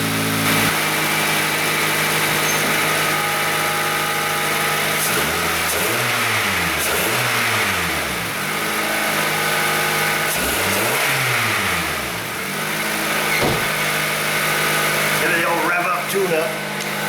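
Engine of a 2005 Pontiac Vibe 1.8 pulled from a junkyard after sitting unused, idling steadily and then revving up and back down twice, with close, loud sweeping pitch rises between steady idle stretches.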